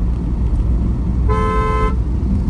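A single clear honk of about half a second from an original Hyundai Creta horn installed in a Maruti Baleno, sounding loud and close over a steady low vehicle hum.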